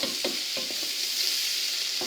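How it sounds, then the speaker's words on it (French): Mushrooms and onions stirred in a saucepan, with soft scraping strokes and a light sizzle at a steady pace, close and alone without talk. "je vais évidemment bien mélanger avec mes oignons"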